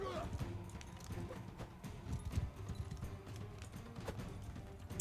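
Horse hooves clop in a Mount & Blade 2: Bannerlord battle, a loose run of hoofbeats amid scattered combat noise, with someone talking over them.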